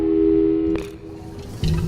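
Telephone busy signal in the video game Portal 2, a steady electronic tone that cuts off partway through, followed by faint clicks.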